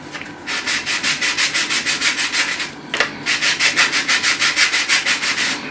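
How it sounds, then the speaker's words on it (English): Rough sandpaper rubbed back and forth on a Dalek model part in quick, even strokes, about three per second, loud and close, with one brief pause midway before the rhythm resumes. "So I'm rubbing this side here, rub that side, then I flip over that side and get it to a point if I can."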